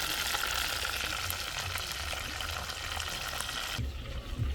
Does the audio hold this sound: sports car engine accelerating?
no